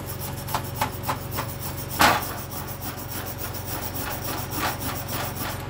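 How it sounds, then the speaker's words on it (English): Stiff brush scraping back and forth over a flux-core weld to remove slag, in short, rough strokes, close up, with one louder scrape partway through; no speech. "I did a little bit of brushing, but not all the slag is coming off."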